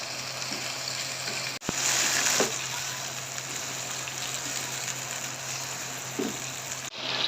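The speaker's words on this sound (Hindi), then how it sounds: "अब हम चिकन को अच्छे से फ्राई करेंगे गोल्डन कलर आने तक" Chicken frying in hot oil for Shinwari karahi, a steady soft sizzle that continues throughout with a few small pops and clatters, no talking.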